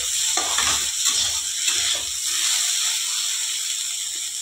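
Okra and onion with turmeric frying in a pan on a medium flame give a steady close sizzle, with a few soft stirring scrapes early on and no talk.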